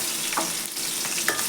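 Cumin, mustard seeds and two or three slit green chillies sizzling in hot oil in a pan, a steady close hiss with a couple of brief sharp spits and crackles.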